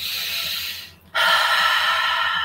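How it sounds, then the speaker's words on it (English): A demonstration of consciously controlled breathing: a long, loud breath that stops briefly, then a second strong, airy exhale or inhale continues steadily, close to the microphone, with no talking. "Conscious breathing is you controlling the breath. You are doing the breath like this."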